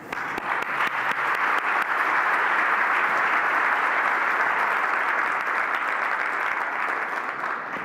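Sustained applause from a conference audience welcoming a keynote speaker at an annual professional meeting, loud, dense and steady from start to finish with no voices over it.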